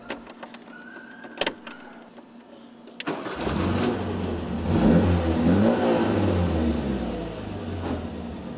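An old car's engine is started with an improvised homemade key. A few clicks and a rattling crank come first, then the engine catches and idles loudly nearby with a steady, slightly uneven rumble.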